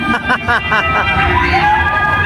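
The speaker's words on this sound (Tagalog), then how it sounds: "Narinig ko ng sigawan nila." Riders scream on an extreme carnival ride, their high, wavering shrieks rising over a busy crowd hubbub at a fairground; the screams come in short overlapping bursts amid constant background chatter.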